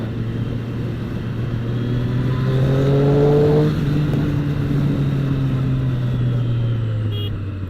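A Triumph Street Triple 765 motorcycle accelerates hard through the gears, its engine note climbing steadily, then dropping at a shift before rising again, loud and close with rushing wind noise.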